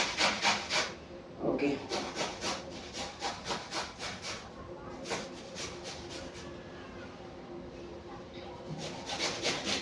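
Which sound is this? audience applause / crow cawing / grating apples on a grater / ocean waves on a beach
grating apples on a grater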